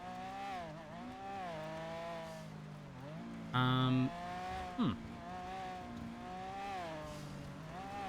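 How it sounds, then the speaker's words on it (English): A loud in-game car engine in GTA V on a NoPixel roleplay server drones steadily near the listener, its pitch rising and falling, with a brief sharper burst midway. "The car's quite loud."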